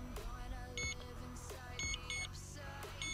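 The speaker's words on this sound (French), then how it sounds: "Ça se met à biper." Eachine EX4 drone beeping during return-to-home flight outdoors, short electronic tones repeating at roughly one-second intervals over steady motor whir and broadband noise.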